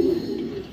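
A grizzle female racing pigeon from the BRPFC club gives one brief, low, close coo that fades out quickly.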